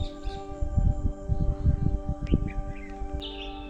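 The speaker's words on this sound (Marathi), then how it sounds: "फक्त पक्ष्यांचा किलबिलाट कानावरती ऐकू येतो" Birds chirp in short scattered bursts against a steady low hum at a quiet temple site in Ranjegaon near Pune, with a few higher tweets standing out near the end; moderately loud, no talking.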